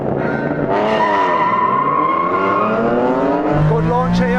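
A race car launches in a Gran Turismo drag race, an NSX among the cars, with a loud, continuous engine roar and rising revs that carry through a tire screech, while a voice talks over it.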